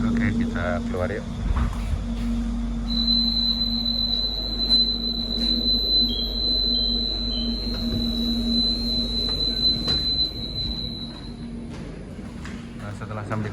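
An airport rail link train pulls into the station with a steady low rumble and a sustained high-pitched whine from the wheels or motors, while voices murmur in the background.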